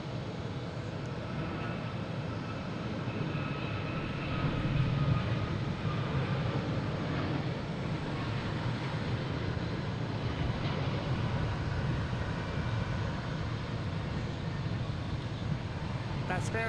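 An American Airlines A321neo jet bound for Phoenix from Boston Logan, its engines a steady, distant roar held throughout, with faint voices now and then.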